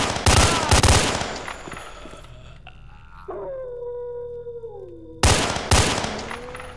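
Loud rifle bursts from STALKER: Shadow of Chernobyl, a few quick shots at the start and again near the end, with a quieter stretch between holding faint tonal game sounds.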